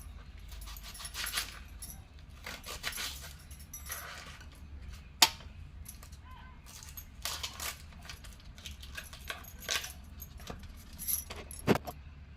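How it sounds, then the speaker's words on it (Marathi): Thin vertical slicing of an onion with a kitchen knife while preparing an ivy gourd (tondli) vegetable dish, heard as a steady run of soft cutting taps and scrapes on a board, close and fairly quiet, with no talking. "कांदा पण आपला उभा कापून घ्यायचा"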